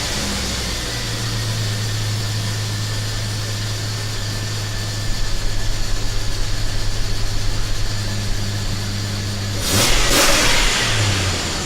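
Car engine starts after a repair, idles steadily near the microphone, then the throttle is snapped for a short rising rev before settling back toward idle.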